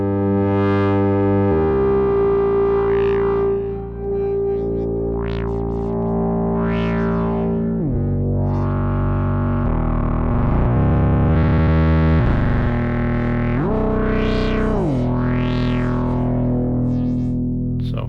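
Instruō tràigh wavefolder module, Signature Edition, folding a sine wave into sustained synth tones whose harmonics sweep and swell with buzzy, distorted edges. Loud and continuous throughout, with no talking.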